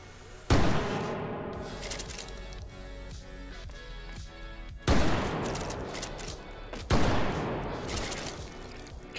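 Lever-action shotgun fired three times in the VR game H3VR, each loud blast spaced a few seconds apart and trailing into a long echoing decay, with handling clicks between shots.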